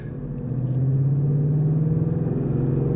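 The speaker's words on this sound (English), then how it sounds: "So we are driving the manual Mustang" A 2015 Ford Mustang V8 with a manual gearbox rumbles steadily while driving, its deep engine note swelling slightly and holding loud and close throughout, with no talking.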